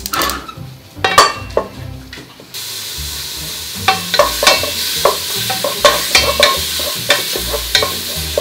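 Beef for Korean seaweed soup is stirred in a pot, with scraping and clinking of a utensil against the metal over a low sizzle, in a repeated uneven rhythm at close range.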